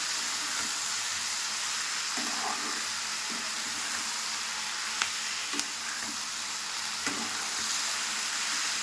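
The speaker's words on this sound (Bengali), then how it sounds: "চলো এটা এখন একটু হালকা হালকা কষাবো এটা" Mixed vegetables and spices sautéing for a fish curry, a continuous loud sizzle with occasional soft scrapes and clinks of a spatula against the pan, no talking.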